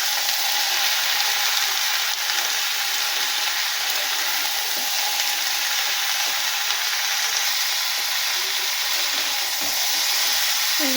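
Figs, potatoes and papaya stir-frying in a hot pan for a Bengali fig curry, a steady broadband sizzle holding evenly for several seconds with faint scraping underneath and no voices.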